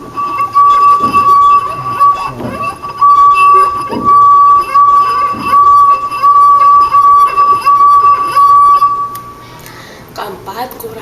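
A drinking glass holding only a little water is struck repeatedly, giving bright clinks and a sustained ringing tone, interrupted by a person speaking at the end.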